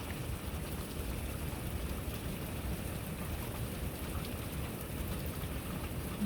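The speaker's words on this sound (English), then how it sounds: "It's so heavy rain" Heavy rain pours down steadily in a Florida garden, a dense, continuous roar of drops hammering surfaces with no letup, loud and close throughout.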